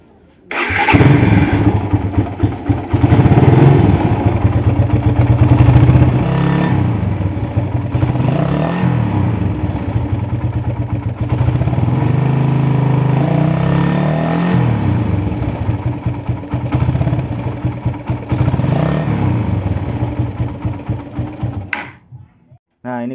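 A 2011 Suzuki Satria FU motorcycle engine with a TK Racing PE carburettor cranks and starts, revs a little, then settles into a steady, slightly rattly idle up close before shutting off.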